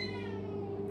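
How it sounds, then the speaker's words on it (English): A pet cat meows near a kitchen, a single sustained tonal cry held for about a second over a steady background hum, close by, with no talking. "My cat wants to come in the kitchen and eat human food"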